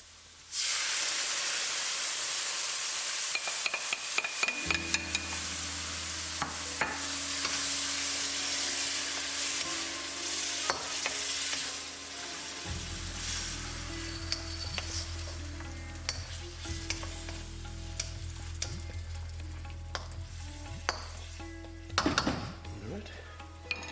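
Spices and tomatoes for butter chicken sizzle loudly in a pan, with frequent stirring clicks and scrapes over a steady frying hiss; the sizzle thickens midway as more goes in.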